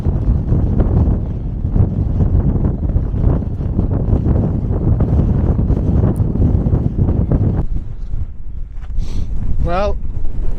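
Strong wind buffeting the microphone on a hill walk around Alphin Pike and Ashway Moss, a loud roaring rumble that fills the whole clip, with a voice talking through it.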